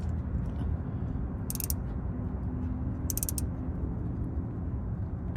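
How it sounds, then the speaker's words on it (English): Wrench tightening a crankshaft position sensor bolt on a car engine: two short bursts of rapid ratchet clicking over a steady low background rumble, close and fairly faint, without speech. "just tighten it as much as you can by hand, and then use the wrench."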